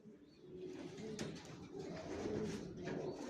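Racer pigeons coo close by in soft, low repeated rolls, overlapping with a light flutter of other birds around them.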